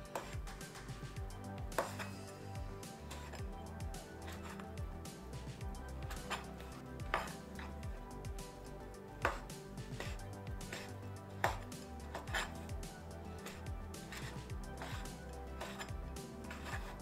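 A knife chops strips of pork skin into small pieces on a board, with sharp, quiet knocks landing every second or two against a faint kitchen background.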